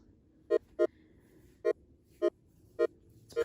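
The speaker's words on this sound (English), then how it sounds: "Now, for my last 3x oscillator sound, I chose the triangle wave." Plain triangle-wave synth from a 3x Osc oscillator plays a light, bouncy progression: six short, soft, evenly pitched plucked notes in a syncopated rhythm over a faint low hum.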